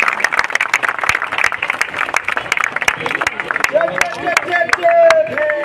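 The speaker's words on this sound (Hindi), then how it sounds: "जोरदार तालियों से आप लोग हमारे चीफ गेस्ट को स्वागत करें।" A crowd claps in welcome for a chief guest at an Ambedkar Jayanti gathering, with scattered sharp claps under ongoing talk and some music near the end.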